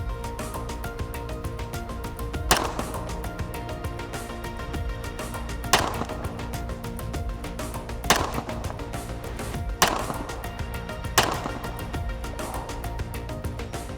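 Two pistol shots fired at a target from 25 yards ring out several seconds apart, sharp distinct cracks among a few similar impacts over steady background noise.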